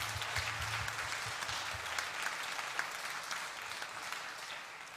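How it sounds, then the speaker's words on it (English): An audience at a summer arts camp applauds before a children's performance, a steady wash of many hands clapping from a large room, moderately faint throughout. "So please give a round of applause."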